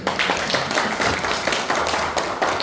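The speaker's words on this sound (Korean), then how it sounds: "박수." An audience at a lecture on relocating the Ministry of Oceans and Fisheries to Busan breaks into steady, close, sustained clapping that stays loud throughout the short burst.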